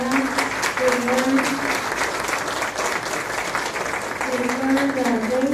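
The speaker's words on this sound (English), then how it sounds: "if you could please give a big round of applause for all the work they've done." Audience applause at a regular school board meeting, sustained crowd clapping throughout while a voice speaks over it.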